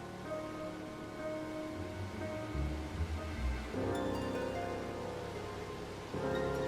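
Rain in the Final Fantasy XIV video game, a soft, steady hiss of falling rain with a low hum of background game sound, fairly faint.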